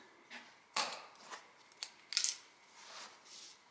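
Scissors snip through macramé cord in a few quick, crisp cuts, close and fairly quiet, with small rustles of cord between the snips in an otherwise quiet room.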